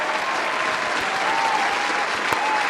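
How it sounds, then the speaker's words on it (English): Dense, even audience applause for a wrestling match, a continuous wash of many hands clapping at steady loudness throughout. "Let's just do a round of applause for the match between Liv Morgan versus"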